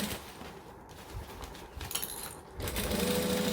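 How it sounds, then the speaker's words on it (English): A sewing machine runs steadily, top stitching along a pocket seam with the seam allowance folded under, a continuous close mechanical whir that briefly dips near the middle before picking back up. "then top stitch along without stitching your pocket"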